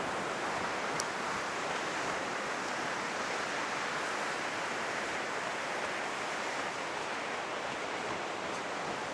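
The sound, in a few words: ocean waves at Kujukuri Beach after typhoon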